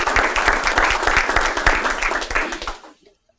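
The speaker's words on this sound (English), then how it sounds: "Round of applause for them." A round of applause from the audience at a baseball and softball media day, brisk clapping with distinct individual claps, fairly loud, then quickly dying away to silence.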